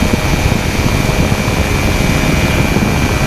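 A FlyLight Aeros NiNE microlight engine drones loud and steady at about 6,000 RPM in flight, a constant close roar mixed with wind rush and no pauses.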